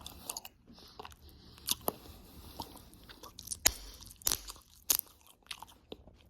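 Bubble gum is chewed right at the microphone, giving soft wet crunches and sharp clicky snaps at an irregular pace against a quiet background.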